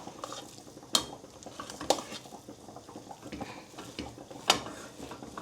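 Potatoes being stirred in a pan over a low gas flame, soft scraping with a few sharp metallic knocks of the spoon against the pan, fairly quiet.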